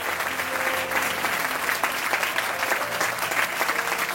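A church congregation breaks into sustained applause, a dense, even clapping that fills the room at steady loudness throughout.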